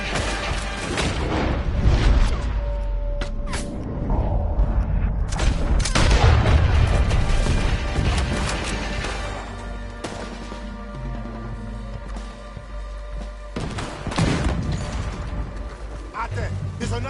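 Loud, dense Red Dead Redemption 2 battle noise with repeated gunfire bursts and cannon booms, continuous throughout with no clear pauses.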